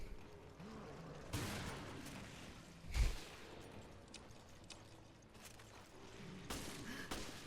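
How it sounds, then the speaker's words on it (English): Rapid gunfire in the survival-horror video game Resident Evil: Revelations, loud bursts and a heavy thump over constant game noise and music, with a voice speaking briefly. "Don't stop shooting."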